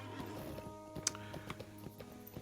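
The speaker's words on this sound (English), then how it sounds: "Just jump on a horse actually." Horse hooves clip-clop in a steady rhythm as a character rides a horse in the Lord of the Rings Online game, moderately close with faint game ambience beneath.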